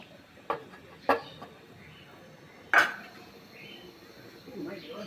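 A lid placed on a cooking pot of mutton rezala, with a few sharp metallic clinks and one louder clatter against quiet kitchen background.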